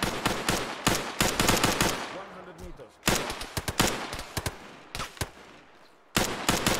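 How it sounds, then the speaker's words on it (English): Dense bursts of rapid gunfire from the game Arma 3, machine-gun rattles and single shots, come loud and close in waves separated by brief lulls. "You hear those gunshots?"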